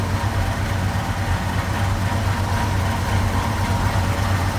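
The flathead V8 engine of a 1951 Ford F1 panel truck idles with a steady, deep rumble, loud and close, with no talking over it.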